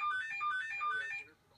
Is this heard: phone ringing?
yes